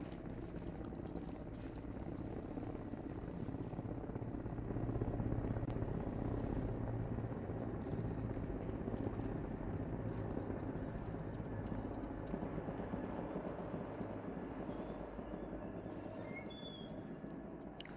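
A military helicopter approaches in the video game ARMA Reforger, its steady rotor drone filling the scene as a continuous, moderately distant roar that swells slightly midway and holds.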